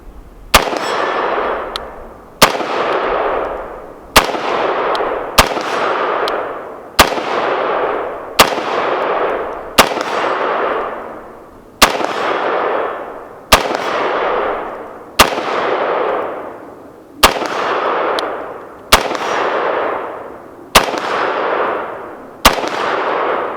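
An IWI X95 Tavor rifle fired at an outdoor range, a dozen loud sharp reports spaced roughly every second or two, each trailing off in a long echo.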